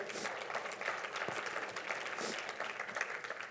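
An audience applauds with dense, continuous clapping that holds steady throughout, heard from a moderate distance.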